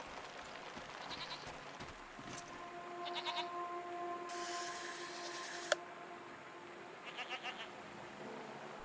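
Strange goat-like creatures bleat in the game SEASON: A letter to the future, with several short wavering calls spread out over a quiet outdoor ambience, moderately near, along with a steady tone and a brief click.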